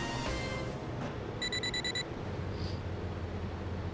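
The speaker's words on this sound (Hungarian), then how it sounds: "Csipogó. Louis-tól jött a üzenet." A pager in GTA Vice City Stories beeps in a quick run of bright, evenly spaced electronic tones, then stops, over quiet in-game background.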